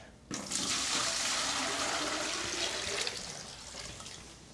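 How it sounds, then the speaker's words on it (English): Graywater dumped from a sink into a 2-gallon bucket makes a sudden loud rush of splashing water that holds steady for several seconds, then eases off slightly, with no voices. "what I do is just pick it up and dump it in my bucket"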